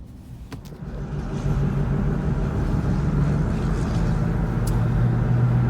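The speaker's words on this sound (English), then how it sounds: "Nice car." A passing car on a street in Claremont swells into a steady, fairly loud broadband roar of engine and tyre noise that holds for several seconds, with no talk over it.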